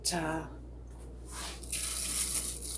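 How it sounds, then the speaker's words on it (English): Running water splashes and swishes steadily as something is rinsed in a bowl, close by, following a brief voiced sound at the start. "So I'll just rinse the oats a bit"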